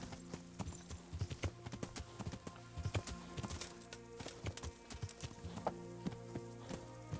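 Steady clip-clop of horse hooves at a walking pace in the video game Kingdom Come: Deliverance on PS5, clear and fairly close, with a low droning hum running underneath.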